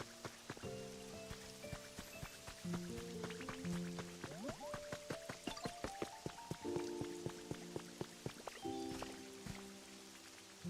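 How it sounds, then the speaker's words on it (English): Steady rain patters in the Pokémon Pokopia game world, a soft continuous hiss of drops broken by sharp drip-like ticks, heard alongside bright tonal game music with no talking. "It's funny how the fire types run home when it rains."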